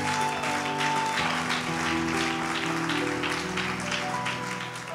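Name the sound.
audience applauding and cheering for the preacher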